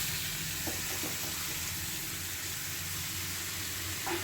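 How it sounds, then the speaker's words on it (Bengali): Bottle gourd frying in a pan with whole cumin, salt and turmeric, a steady close sizzle throughout, with a few faint stirring knocks. "গোটা জিরে দিয়ে লাউগুলোকে নিয়ে নুন হলুদ দিয়ে ভালো করে ভেজে নেব"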